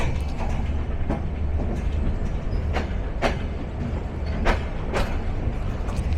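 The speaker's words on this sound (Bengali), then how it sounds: "রংপুর এক্সপ্রেস প্রবেশ করছে ঢাকা বিমানবন্দর স্টেশনের 2 নম্বর প্ল্যাটফর্ম ধরে" The Rangpur Express rolls into a platform at Dhaka Airport station with a steady, loud rumble and repeated sharp clacks as the wagons pass over rail joints, with no voices.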